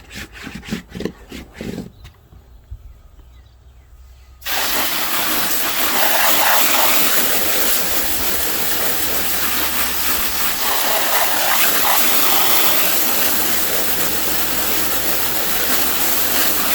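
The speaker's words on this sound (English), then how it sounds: "and then you can just rinse it off." Water spraying steadily onto wet car floor mats from a Kia Soul EX after a few seconds of rubbing and handling, then a loud, constant hiss of rinsing that continues close by without pause.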